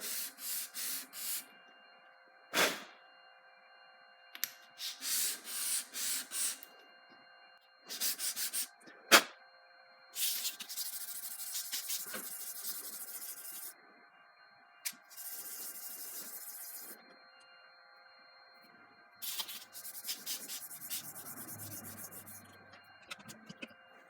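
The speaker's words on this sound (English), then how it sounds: "So I'll want to sand all those out before I can get a particularly good guard fit. This is just some coarser sandpaper." Coarse sandpaper rubbed over a chef knife blade in repeated bursts of scratchy strokes, close and moderately loud, with short pauses between sets and no talking.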